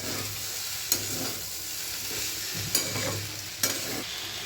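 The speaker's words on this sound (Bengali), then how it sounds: "আমি আদাটা দিয়ে ভালো করে নেড়ে চেড়ে নিচ্ছি।" Ginger paste sizzles gently in a pan of oil for a rohu fish curry while a spatula stirs, with three sharp clicks of the utensil against the pan over a steady soft hiss.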